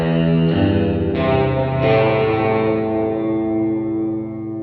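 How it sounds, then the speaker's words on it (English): A sustained tone washes through a McDSP FutzVerb reverb plugin with damping, stepping through several chained, distorted, echoing shifts before the darkened tail slowly fades out alone. "And the damping, of course, reduces the top end of the reverb."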